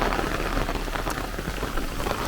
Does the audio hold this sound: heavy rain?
yes